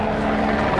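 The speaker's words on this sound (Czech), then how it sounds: "Vrtulník." A helicopter flies over a half marathon in Olomouc, its rotor chop and engine drone holding at a steady, fairly loud level for under a second, with no talk over it.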